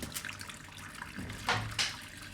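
Tap water runs into a sink ahead of cleaning boots, a steady close splashing hiss with two brief louder gushes near the end, no talking.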